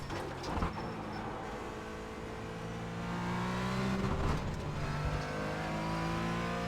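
A Porsche race car in iRacing, likely on the old Silverstone layout, holds a steady engine drone that climbs and shifts through gears, with brief tire noise and a louder revving surge midway.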